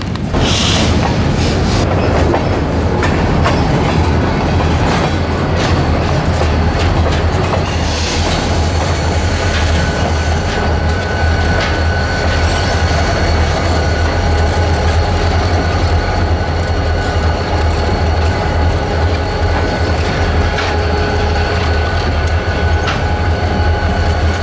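An orange BNSF freight train switches in Las Cruces, New Mexico, producing a loud, steady rumble with clattering rail cars and occasional wheel squeal throughout, close by and with no one talking.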